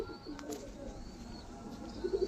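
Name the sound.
cooing of Allahabadi Chiniya pigeons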